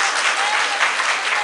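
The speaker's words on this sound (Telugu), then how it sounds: "చప్పట్లు కొట్టి దేవుని స్తుతించండి." A church congregation claps in praise, a dense, loud burst of applause from a crowd indoors, continuous and alone with no voices over it.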